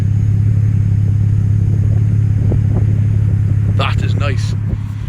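A Jeep Cherokee's 3.7 V6 engine idles with a deep, steady close-up hum, broken by a couple of light throttle blips, and a voice speaks briefly near the end.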